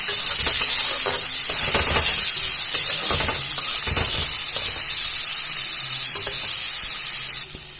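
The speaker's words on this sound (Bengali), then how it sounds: "আলু আর গাজর একসাথে ভালো করে ভেজে নেব" Diced potatoes and carrots fry together in oil in a pan, a close crackling sizzle punctuated by stirring scrapes and clinks, with no voices.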